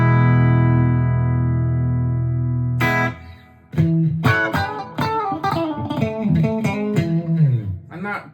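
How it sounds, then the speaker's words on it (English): A cheap electric guitar played through a Fender Twin Reverb clean tone: one long ringing chord sustains and fades, then a run of bright plucked notes and chords follows, close and clear with reverb tails. "And that, to me, does sound like a Fender Twin Reverb would."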